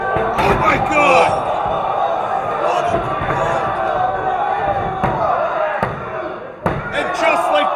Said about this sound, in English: Vicious pile driver, modified new power.